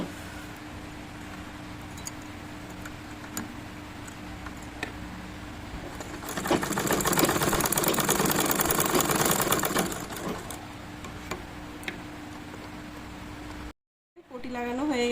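A domestic sewing machine stitches fabric over gathered pleats while a square-neck nightie is being sewn, a loud burst of rapid mechanical running in the middle with quieter clicks and handling before and after.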